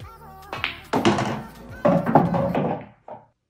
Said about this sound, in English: I'm going to screw straight back, off the cushion,